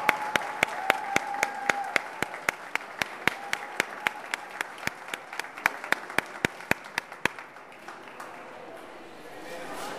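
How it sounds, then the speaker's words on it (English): Applause at a press conference for a free health care event: sharp, evenly spaced claps close to the microphone in a steady beat, thinning out after about seven seconds over faint room noise. "A big round of applause and a great welcome to Stan Brock."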